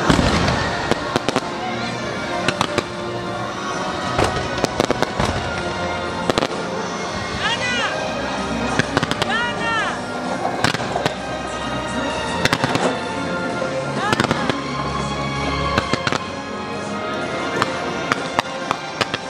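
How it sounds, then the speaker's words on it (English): Fireworks show paired with a fountain show at Universal Studios Orlando during the holidays, with repeated bangs and crackles under music and crowd noise, people talking nearby. "Got to catch the tail end of the fireworks and fountain show"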